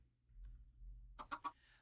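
A baby chicken in Minecraft gives a quick run of three short clucks, close and fairly quiet, after a low background hum.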